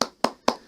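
Three sharp hand claps spaced about a quarter second apart, each a crisp close slap that decays quickly, alone without voices.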